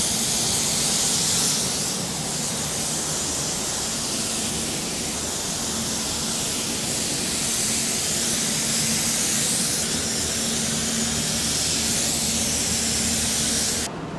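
A paint spray gun lays sealer onto a car body panel in an auto paint job, giving a loud, continuous close hiss of atomized spray that holds steady throughout with slight swells as the gun sweeps.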